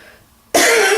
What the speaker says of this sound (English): As you'll note by my lingering cough here.